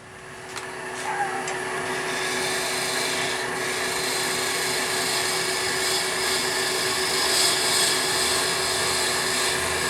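A hand scraper takes fine slicing cuts on wood, a steady close rasping scrape that holds continuously over a faint background hum, with no speech.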